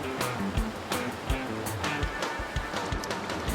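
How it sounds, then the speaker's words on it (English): Strong rushing water pours over rocks in the rapids of the Teshio River in Hokkaido, a steady, loud, broadband roar with occasional splashes and no talking. "They decide to go through the rocks where the water is flowing down strongly."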